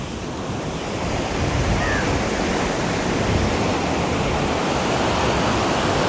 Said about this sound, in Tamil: இந்த கெனால்லேருந்து வர தண்ணியோட சத்தம் உங்களுக்கு கேட்கும்னு நினைக்கிறேன்